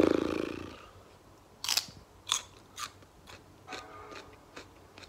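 Raw celery eaten at breakfast, giving a handful of sharp crunchy bites spaced across the clip, close and fairly quiet, after a brief low rustle at the start.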